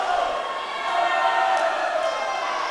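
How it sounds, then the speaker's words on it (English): Teammates at a Tufts versus MIT swimming meet cheer from around an indoor pool, a sustained, echoing roar of shouting voices that swells slightly and never breaks. "both sets of teammates cheering on as loud as they can"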